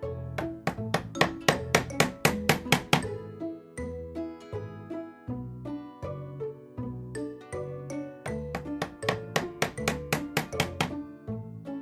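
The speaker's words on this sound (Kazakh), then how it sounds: "Шегені қағады." A hammer drives a nail with rapid, evenly spaced metallic taps in two quick runs, with sparser strikes between. Music plays underneath.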